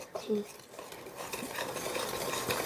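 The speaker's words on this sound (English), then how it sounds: "I'm not stirring it too hard because all this powder right here" Cheesecake brownie batter with powder on top stirred gently in a bowl, soft scraping and light clinks of a utensil against the bowl, close and fairly quiet, with a brief voice early on.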